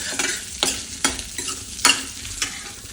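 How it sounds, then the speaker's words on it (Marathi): Boiled potato slices stirred in a hot pan, giving a soft continuous sizzle broken by about six sharp spatula scrapes at irregular intervals, close and clear with no talking. "आता या कापाला सुद्धा आपण असं व्यवस्थित हलवून घेऊया"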